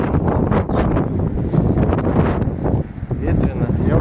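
Strong wind buffets the microphone with a steady, heavy roar outdoors at a Buddhist temple in Kalmykia on a blustery November day. There is no break in the rumble.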